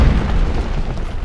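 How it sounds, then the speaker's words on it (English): A Barsboldia dinosaur stomping in ARK lands as a deep, rumbling low boom that rolls on for the whole short moment, loud and heavy without speech. "Oh, he's doing a stomp."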